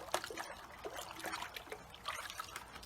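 Baking soda is stirred into water in a container, a soft, close trickle and slosh of liquid being mixed, faint and brief.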